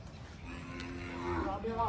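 Gir cows low nearby on a farm. A drawn-out moo swells toward the end over a steady rural background.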